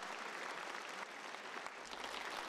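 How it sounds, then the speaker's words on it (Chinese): Warm, sustained applause from a large audience fills a formal ceremony marking the 70th anniversary of China-Russia diplomatic ties, a dense, even clapping throughout. "在热烈掌声中"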